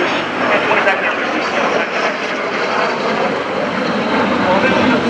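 Military jets perform an air combat maneuver at a naval air station airshow, a loud continuous roar of aircraft engines filling the air throughout. A commentator talks over it.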